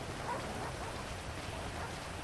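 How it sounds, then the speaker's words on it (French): Steady rain falls in the GTA RP video game, a soft, even hiss of drops spread evenly across the whole stretch with no other sounds. "Dépêchez-vous, il pleut."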